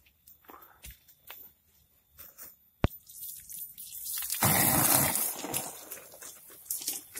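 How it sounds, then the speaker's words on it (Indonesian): Freshly planted kimeng bonsai air-layer cuttings in sand are watered, soft scattered drips and footsteps leading into a burst of splashing pour that tapers into trickles. "kita siram dulu hasil tanam jangkokan kimeng yang baru kita angkat"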